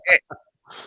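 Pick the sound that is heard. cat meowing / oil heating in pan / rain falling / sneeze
sneeze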